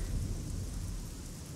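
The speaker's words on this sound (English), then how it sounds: "The rain sound on this." Steady rain and thunder rumble in the Fallout 3 video game, a continuous wash of falling rain close and fairly loud, with low thunder underneath and no voices.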